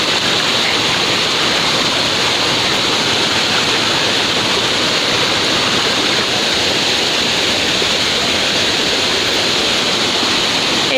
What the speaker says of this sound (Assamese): কিছে জলপ্ৰপাত এইটো